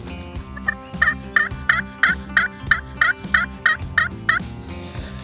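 Wild turkeys in timber gobble in a rapid, repeated string of rattling calls, about a dozen evenly spaced bursts at moderate distance, with no one talking.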